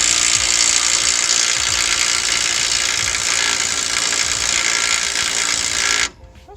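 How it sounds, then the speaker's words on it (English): A bolt spun with a power tool on a Fourtrak during an air bag suspension conversion, a loud continuous high whirring buzz lasting several seconds before stopping abruptly. "I'm spinning the bolt."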